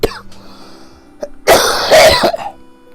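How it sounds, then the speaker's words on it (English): A person on the tail end of a lingering cough coughs in a harsh cluster of bursts midway through, close and loud, after a quieter stretch of small mouth sounds and breaths. "Again, I'm on the tail end of this stupid cough."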